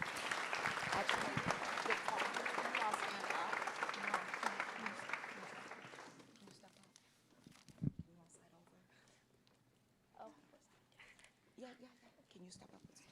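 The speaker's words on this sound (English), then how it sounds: "Let's give a round of applause for LEF." Indoor audience applause at a school district event, a steady wash of clapping for several seconds that fades out, followed by quieter room sounds and brief talk.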